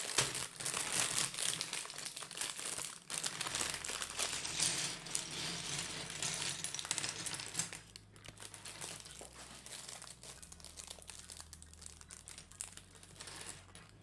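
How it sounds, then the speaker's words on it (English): Plastic bag of LEGO pieces crinkling and rustling loudly and continuously up close, with a brief pause partway through and small plastic pieces clicking among the crackle. "Crinkling plastic incoming."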